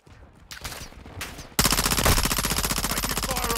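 Rapid automatic gunfire erupts loud and close in the video game Call of Duty Modern Warfare II, a dense, steady stream of shots after a quieter opening with a few scattered sounds.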